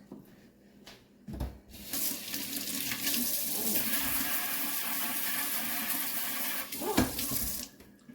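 Tap water runs into a sink while something is rinsed, a steady rushing stream after a couple of clunks, with brief interruptions near the end.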